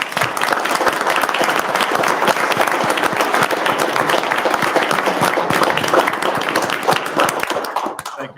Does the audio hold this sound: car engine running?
no